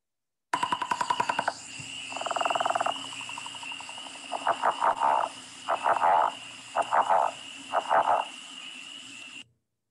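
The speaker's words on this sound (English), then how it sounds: "That's your leopard frog" Leopard frog calling from a vernal pool, a series of snoring, rattling croaks in short bursts of pulses with gaps between, fairly close and clear with no talking.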